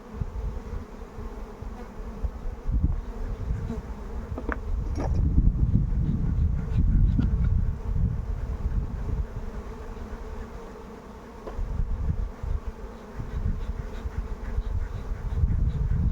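A steady, close drone of many honeybees buzzing at an open hive while smoke is applied, rising somewhat in the middle and continuing throughout with a few faint knocks and rustles.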